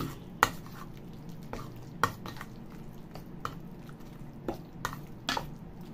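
Spoon stirring a mixture of anchovies with chopped spring onion in a bowl, giving soft scraping with several sharp clinks against the dish at irregular intervals.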